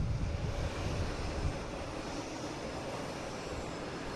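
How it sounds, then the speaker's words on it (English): An Embraer Phenom 300 business jet, a FlexJet flight bound for Dulles, passes overhead as a steady broadband engine roar, a bit heavier in the first second and a half before settling into an even, continuous rush. "We have this FlexJet here heading to Dulles. Embraer Phenom 300."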